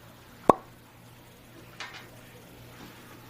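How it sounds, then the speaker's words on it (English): A cork pulled from a bottle of Buffalo Trace bourbon, 90 proof, gives one sharp, close pop, followed by faint rustling and handling noise. "So let's pop the cork"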